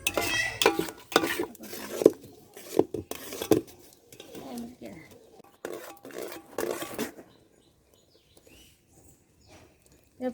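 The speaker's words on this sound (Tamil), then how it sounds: "அதிரச மாவு கிண்டி வைக்கணும்." A spoon stirs and scrapes adhirasam dough made of rice flour and jaggery syrup in a metal pot, giving irregular clanks and scrapes that fade to near silence near the end, with brief speech in the background.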